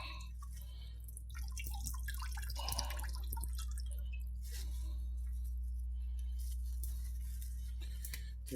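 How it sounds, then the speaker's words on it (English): Water drips and squishes from blanched spinach wrung out by hand in a kitchen, a scatter of small wet drips and squeezes over a steady low hum, with no talking. "we wring the water out"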